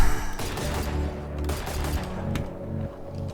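Rapid, heavy gunfire from a Guardian rifle wearing the Prime skin in Valorant, with loud dense bursts and booming low end that keep rolling with no pauses.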